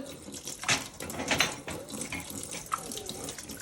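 A kitchen tap runs while plates are washed, giving a steady splashing stream with fluctuating gurgles and spatter as water hits dishes in the sink, fairly close and moderately quiet.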